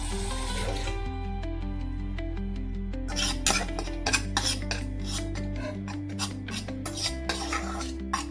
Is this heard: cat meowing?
no